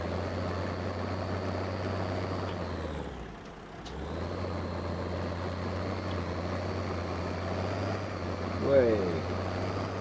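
A small tractor's engine runs steadily in the Farming Simulator 15 video game, a constant low drone that dips briefly mid-clip and then resumes, with a short rising whine near the end.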